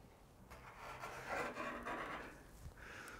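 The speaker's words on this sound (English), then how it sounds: "I'm just gonna mark out the boundaries with a paint pen" A paint pen scratches and rubs along the metal roof of an RA23 Toyota Celica, marking out rust-repair boundaries. The scratchy strokes are faint and close, and come in a few short passes.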